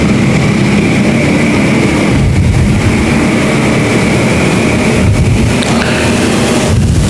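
A pack of Pro Super Heavy racing karts roars hard and continuously on the green flag at the PK Holiday Classic, a loud, dense engine din with a sustained whine over it and no voices.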